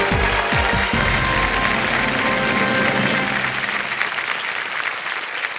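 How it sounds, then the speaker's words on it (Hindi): Studio audience applause on a Hindi television quiz show, a dense, loud burst of clapping that fills the room and starts to thin out toward the end, with no talking over it. "बस ताली बज जाए जोर से"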